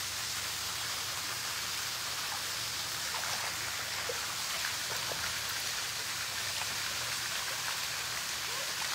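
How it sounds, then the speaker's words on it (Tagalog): Steady light rain pattering on a surface, a soft continuous hiss with faint scattered drops, no voices. "Ligo kami ulan. Kaso, unti lang."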